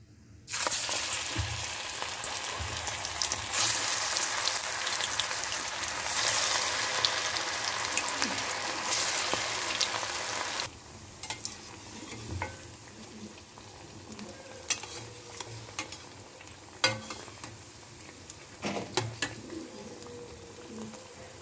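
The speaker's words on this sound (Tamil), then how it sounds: "இப்போது அடுப்பில் எண்ணெய் சூடாயிடுச்சு. நம்ம ஒவ்வொரு வடையாக போடலாம்." Methi vadas dropped one by one into hot oil for deep-frying, a loud bubbling sizzle that later settles into a quieter crackle, with scattered knocks of a utensil.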